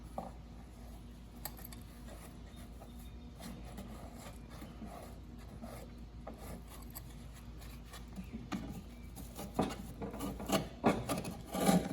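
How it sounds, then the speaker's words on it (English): Dry grass being scraped out of a push lawn mower deck makes soft, uneven rasping and scratching strokes, faint at first and growing a little louder toward the end. "since this grass is a lot drier than the grass that we just scraped out of the X mark, it's a little bit harder to scrape"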